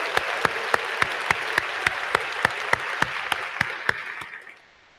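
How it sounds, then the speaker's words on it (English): An audience at an academic convocation applauds steadily, with a dense wash of clapping and a few sharp, evenly spaced claps cutting through until it fades out. "Let's give them a round of applause."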